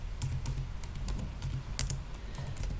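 Keys clatter on a computer keyboard in quick, uneven bursts while a folder name is typed on a desktop; the clicks are close and fairly quiet, with no voices.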